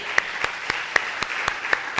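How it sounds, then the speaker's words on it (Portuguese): A church congregation claps in praise to the Lord, sharp regular beats about four to the second in a steady rhythm, moderately loud with no talking over it. "Vamos dar um louvor de palmas ao Senhor"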